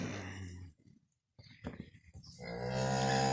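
A cow lets out a long, loud moo nearby in a barn, then falls quiet amid faint shuffling before a second deep moo rises.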